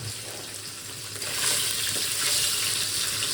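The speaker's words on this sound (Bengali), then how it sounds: "আগে পনিরগুলো ভেজে নিচ্ছি।" Paneer fries in a pan with a hissing sizzle that grows louder partway through and then holds steady, close and continuous with no talking.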